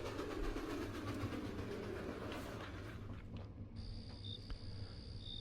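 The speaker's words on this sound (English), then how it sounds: "As the train pulls into the station, you can hear the gentle hissing of the brakes" A train rumbles and clatters along the rails, then a steady high hiss of its brakes rises near the end as it pulls into a station, with faint squeals over the low roar.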